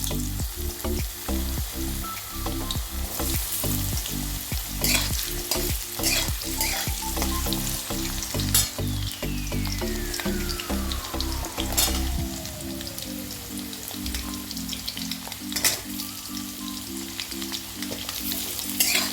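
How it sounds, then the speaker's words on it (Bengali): Potatoes frying in mustard oil with dried red chillies and whole cumin, a continuous close sizzle broken by frequent rhythmic spatula clatter and stirring, with a faint tonal whine in the background. "শুকনো লঙ্কা, সরষের তেল দিয়ে বানাচ্ছি। আলুটা ছেড়ে দিলাম।"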